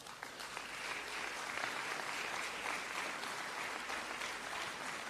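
A conference audience at a Jamaican diaspora event applauds a prime minister's speech with steady, dense clapping that holds at an even level throughout.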